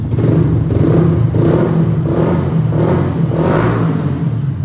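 A 2010 Yamaha YZF R125 motorcycle with a dB killer fitted revs repeatedly in rising and falling pulses, loud and close, with a deep throaty exhaust rumble throughout.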